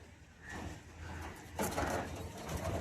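Pigeons of a fancy high-flyer breed, kept for sale, give soft, low cooing calls nearby in a quiet space, with a brief clatter and faint human sounds in the background.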